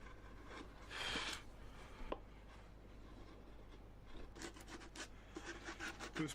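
Hand wood carving with sloping gouges and knives, quiet scraping and rubbing strokes of blade on wood, a few separate rasping passes with small taps, close and faint.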